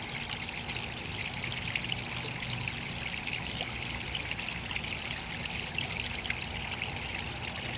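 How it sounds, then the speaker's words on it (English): Soft, continuous trickle of water in a backyard koi fish pond, a faint steady babble with no talking. "But it's magical to hear the water."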